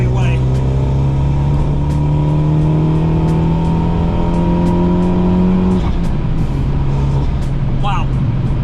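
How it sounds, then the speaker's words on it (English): Abarth 500 Series 3 with a TD04 turbo accelerating hard in fourth gear in sport mode, engine note climbing steadily and loud inside the cabin, easing after about six seconds, with faint voices. "let's drop it down now, into fourth, and accelerate away"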